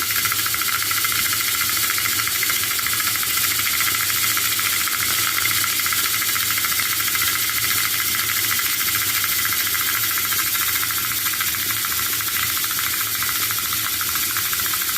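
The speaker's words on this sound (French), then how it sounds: "comment s'appelle la machine? Mini Rotary Tumbler RTO 4." A Mini Rotary Tumbler RTO 4 polishing tumbler runs steadily, giving a constant loud hiss and rumble with a faint rattling churn. The sound holds the same level throughout, with no talk.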